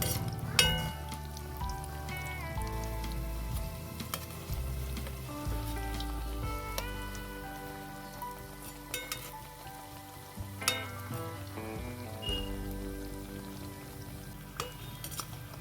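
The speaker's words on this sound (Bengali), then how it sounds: "সিঙ্গারা ভাজার নিয়মই হচ্ছে একদম কম কম আঁচে ভাজতে হবে" Singaras fry in oil on low heat, giving a soft continuous bubbling crackle with occasional sharp clicks and clinks of a utensil against the pan, close by with no voices.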